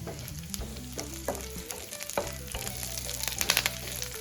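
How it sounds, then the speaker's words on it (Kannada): Onions, garlic, green chillies and curry leaves fry in a pan for an egg chilli dish, giving a steady close sizzle punctuated by repeated stirring scrapes and clatters, with no voices. "ಅವಾಗ ಉಳ್ಳಾಗಡ್ಡಿ ಬೆಳ್ಳುಳ್ಳಿ ಎಲ್ಲ ಕಟ್ ಮಾಡಿ ಇಟ್ಕೊಂಡಿರಲ್ಲ, ಅವನ್ನೆಲ್ಲ ಹಾಕೊಂಡ ಫ್ರೈ ಮಾಡ್ಕೊಂಡ್ರಿ."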